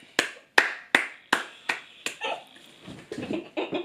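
A series of sharp, evenly spaced hand claps rings out close by, about six crisp strikes followed by softer, quicker tapping sounds toward the end.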